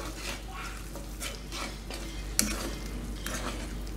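Crawfish stirred in a pan of garlic butter sauce, a steady sizzle with repeated scraping stir strokes and one sharp metallic clink from the utensil against the pan, no talking.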